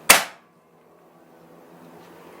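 A single sharp, close crack from a Predator 38 PCP air rifle with a folding stock, fired once, cutting off quickly into a faint room hum.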